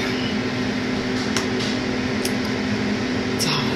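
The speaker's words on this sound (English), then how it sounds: "I hate being underneath the dryer." A hooded hair dryer runs over a Sisterlocks rollerset, giving a loud, constant whooshing hum of blown air with a steady motor tone. It continues unbroken from start to finish.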